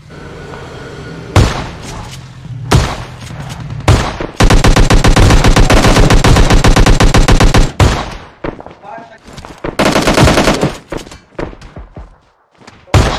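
Gunfire from PUBG, bursts of rapid automatic weapon fire with sharp single shots and thumps, loud and close, in long sustained volleys separated by brief pauses, with game sounds and a voice in between.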